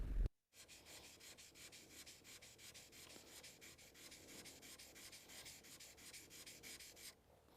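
A chisel is rubbed back and forth on a sharpening stone in a rapid, even scraping rhythm that continues for several seconds at close range, with no talking.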